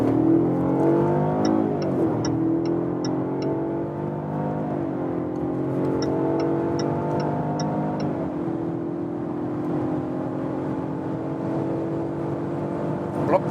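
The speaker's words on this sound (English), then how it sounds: "And also the sound, it's a 4-cylinder engine" A car's 4-cylinder engine accelerates from about 40 km/h through several gear changes, the rising drone dropping and climbing again at each shift, heard from inside the cabin over steady road noise.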